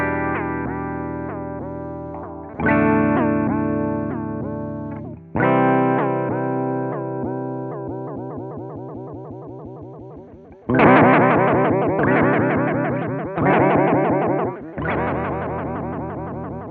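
Chase Bliss Warped Vinyl MK2 chorus pedal on electric guitar with depth turned all the way up, several strummed chords ringing with a heavy, warbling pitch wobble, played loud and alone.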